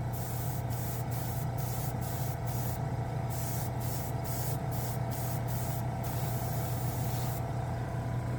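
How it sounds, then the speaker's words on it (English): An air compressor runs during chrome paint spraying, giving a steady low mechanical hum and drone with a continuous hiss layered over it, interrupted by a rapid series of short spray bursts. "Air compressor is kicking in."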